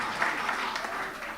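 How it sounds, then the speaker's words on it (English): Steady applause from an audience at a football cup media briefing, moderately faint and even, holding for a moment without a break. "So give that a round of applause"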